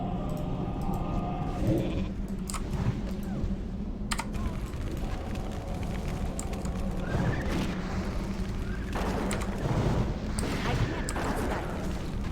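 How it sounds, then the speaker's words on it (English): Sheep bleats from World of Warcraft Classic rise a few times over game ambience and steady keyboard clicking, with a little background talk. "Sheep."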